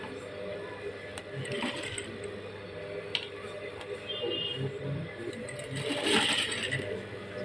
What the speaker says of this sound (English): So I'm going to be top stitching it like this around.